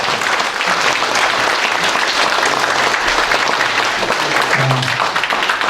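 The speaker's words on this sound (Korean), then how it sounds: "박수로 한번 크게 환영하겠습니다" Loud, sustained applause from an event audience welcoming chairman Ji Chun-ho at a forum gathering, dense and steady throughout with a few faint voices underneath.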